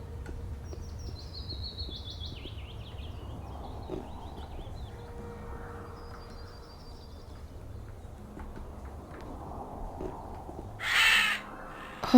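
A crow caws in the Gothic II game at dusk, a short loud burst near the end over a steady ambient bed of low rumble and faint distant calls.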